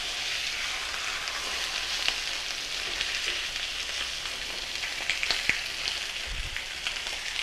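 Steak browns in a hot, wide lidded pan for Swiss steak, giving a soft, steady sizzle throughout with a few small pops and no talk.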